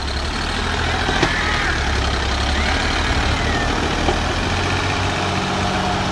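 A 65 HP tractor engine idles with a steady low rumble, close and continuous, under a broad wash of noise with a couple of faint clicks.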